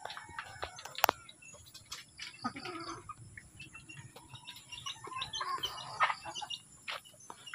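Chickens cluck softly in the distance around a breeding cage holding a brooding hen, with scattered chirps and short calls over a quiet background.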